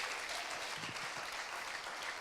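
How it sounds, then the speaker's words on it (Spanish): A church congregation applauds the Lord: a dense, even patter of clapping hands from a crowd, fairly quiet and steady over a couple of seconds, with a faint voice murmuring briefly underneath. "Denle un aplauso al Señor"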